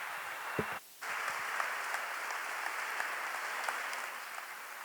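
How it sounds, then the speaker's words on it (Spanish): Audience at a national book fair talk applauding, steady dense clapping from a crowd heard at a moderate distance, briefly dropping out near the start before resuming and continuing evenly to the end. "nos merecemos este fuerte aplauso que nos vamos a dar entre todos nosotros"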